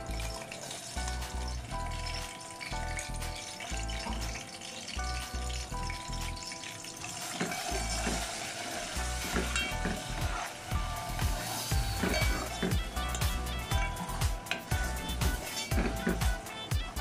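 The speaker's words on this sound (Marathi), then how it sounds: "ते वाटण आपण त्यामध्ये आता टाकून देणार आहोत. मसाला संपूर्ण कच्चा होता आपला, तर तेलावर छान परतून घेणार आहोत आपण मसाला." Ground chili, ginger and garlic masala paste frying in oil: continuous sizzling and crackling with stirring, fairly close and steady, growing busier and more irregular toward the end, with no talk.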